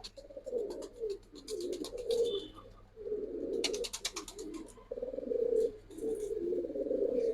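Giribaz pigeons being sold coo in low, repeated throaty bursts, steady and close by, with occasional higher chirps and faint background noise.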